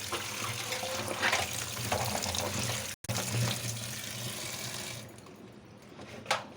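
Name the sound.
washing chopped flat beans in water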